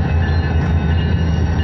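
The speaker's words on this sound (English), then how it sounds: "that train is loud." A freight train rumbling past loud and close at 19th Avenue and Jefferson in Phoenix, Arizona, a dense continuous low roar of engine and wheels with no talking.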